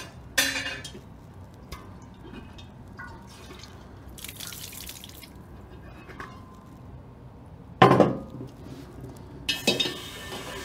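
Water sloshes and drips as a glass carboy is rinsed in a utility sink, with a few brief splashes and clinks of glass over a quiet dripping background.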